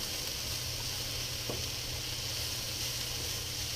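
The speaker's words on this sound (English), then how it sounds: "So some of these onions are already getting nice and seared." Onions sear in a hot skillet that holds heat well, giving a steady, even sizzle and hiss close by, with one brief clink partway through.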